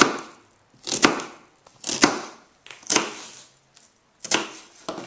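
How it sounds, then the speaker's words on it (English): Kitchen knife dicing an onion on a cutting board: five or six sharp, crisp chops at a steady pace about one second apart, close and clear, with no talk. "just cut nice, you get nice diced onion"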